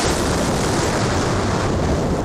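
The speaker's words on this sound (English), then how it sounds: "Booster ignition and the final liftoff of Discovery." Booster ignition and liftoff of Space Shuttle Discovery in the Orbiter 2016 simulator at night, a loud continuous broadband roar like rushing wind and surf, steady and unbroken throughout.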